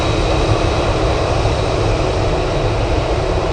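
F-22 fighter jets flying over Anchorage airport, heard as a loud, steady broadband roar that holds level throughout without a clear rise or fade.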